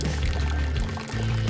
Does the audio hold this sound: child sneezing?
no